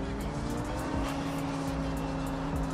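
A turbocharged car engine in the BeamNG driving game roars steadily and loudly at high revs throughout, a dense continuous drone with a faint tire noise.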